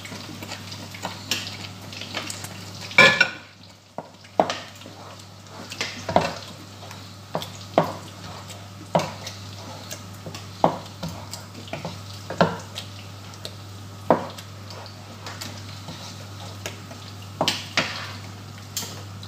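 Filipino-style spaghetti sauce with ketchup cooks in a pan, with a faint steady simmer under repeated sharp clinks and scrapes of a utensil stirring against the pan at an uneven rhythm.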